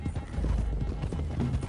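Horses in the video game Red Dead Redemption 2 galloping, hooves clip-clopping in a quick, continuous rhythm, fairly loud and close, with a faint whinny and voices mixed in.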